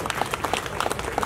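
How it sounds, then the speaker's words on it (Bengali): A live cultural stage show audience applauds, a short burst of scattered hand claps at moderate distance with no voices over it. "তো অন্তরাদির জন্য একটা বড় হাততালি চাই"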